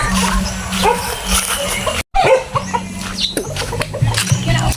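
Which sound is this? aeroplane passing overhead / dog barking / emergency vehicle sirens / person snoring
dog barking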